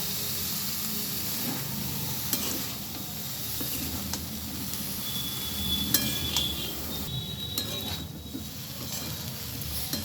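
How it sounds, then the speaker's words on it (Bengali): Previously fried broccoli tipped into a hot frying pan with spices, giving a steady, close sizzle that runs throughout, with light stirring and scraping rising briefly over the constant frying hiss. "এবারে আমি ভেজে রাখা ব্রোকলিগুলো দিয়ে দিচ্ছি।"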